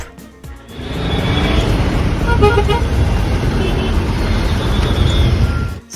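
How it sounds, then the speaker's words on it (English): Car and scooter horns honk constantly in chaotic Kathmandu street traffic, several overlapping toots near and far over a loud steady roar of engines, with voices faintly in the mix. "everybody is honking non-stop"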